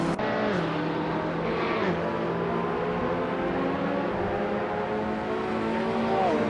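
Race cars, including a Ferrari F40 and a Ford, roar through a racing video game, a continuous loud engine whine with shifting pitch as cars accelerate and change gear, no talk.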